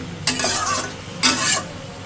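Potatoes being stirred and sautéed in a pan: two close bursts of scraping and sizzling, each lasting about a third of a second, over a low background hum.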